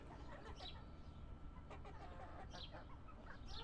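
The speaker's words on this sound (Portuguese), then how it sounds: "Olha um galinho pequeno" Small chicken clucking softly in short, irregular bursts nearby, faint and low in level, with a little background noise.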